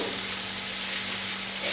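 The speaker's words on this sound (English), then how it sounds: "So I'll just let that saute away, or whatever you wish to call it." Onion sautés in a pan with rock salt, giving a brief, steady, soft sizzle with a faint background hum.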